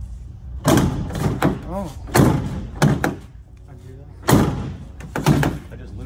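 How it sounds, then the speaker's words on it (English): A repaired door with a fixed latch is slammed shut several times, loud thuds landing between bursts of nearby speech. "If you keep slamming it like that, you're gonna break it."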